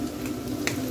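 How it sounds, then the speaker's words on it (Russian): Steady sizzling and crackling of bacon added to browning minced meat in a pan, close and moderately loud, with a low hum underneath. "Фарш немного обжарился, я добавляю бекон."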